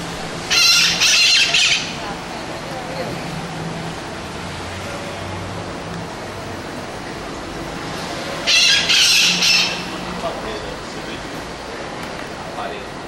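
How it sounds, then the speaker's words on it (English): Parrots squawk loudly in two harsh bursts separated by several seconds, with a steady background wash of noise in between, somewhere in Wynwood. "I think those were parrots, but they were making quite a racket."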